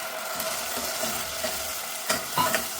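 Ground tomato sautés in oil with crushed ginger and garlic for a Kerala-style egg curry, giving a soft, steady sizzle broken by a few stirring clicks and scrapes near the end.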